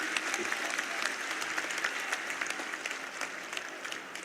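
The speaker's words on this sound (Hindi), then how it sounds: "आप सब तालियां बजाकर बताइए सहमत हैं" Audience in the Lok Sabha bursts into sustained applause, a dense patter of many hands clapping at once, steady and fairly loud throughout with faint crowd murmur beneath.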